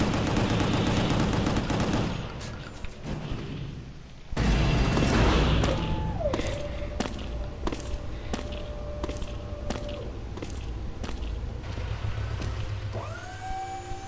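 Stone Barrage attack in the video game Gungrave G.O.R.E: a dense burst of rapid gunfire, then a string of sharp, loud separate shots and impacts with metallic ringing tones between them.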